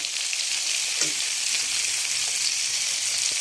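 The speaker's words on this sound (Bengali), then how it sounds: "বেগুনগুলো আলাদা আলাদা ভাজছি, কারণ নাহলে গলে যাবে।" Eggplant pieces fry in hot oil with a steady, close sizzle, a few light stirring clicks and nobody speaking.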